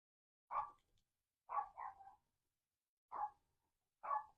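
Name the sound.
dogs barking outside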